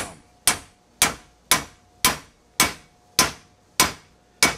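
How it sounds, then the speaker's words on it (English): Brass hammer striking frozen metal parts during a diesel tractor valve job, eight sharp ringing blows at a steady, even pace, loud and close with short decays. "It's a brass hammer"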